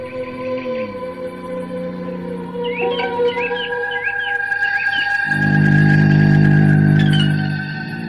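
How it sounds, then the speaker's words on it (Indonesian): Canaries sing in short, bright chirping bursts around the middle and near the end, heard moderately over a steady layer of sustained musical tones. "Burung itu indah dan merdu kicauannya."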